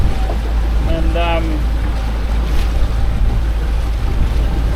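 A fully loaded ski boat plugs steadily through the water, its low droning engine and broad wash of water and wind noise continuous and close, with someone speaking briefly over it.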